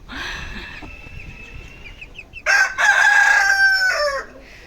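A farmyard rooster crows loudly and close by, one long rising-and-falling call that follows a stretch of softer clucking and barnyard bird noise.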